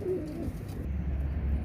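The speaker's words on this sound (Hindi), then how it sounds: "ये कबूतर मैंने पकड़ा हुआ है" A pigeon gives a low, soft coo close by, followed by quiet rustling and handling noise.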